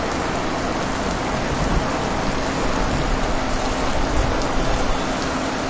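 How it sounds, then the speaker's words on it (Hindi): Heavy rain pours steadily in Srinagar near Dargah Hazratbal, a dense, loud hiss of drops on surfaces with no pauses and no voices. "बारिश जो है रुकने का नाम नहीं ले रही है।"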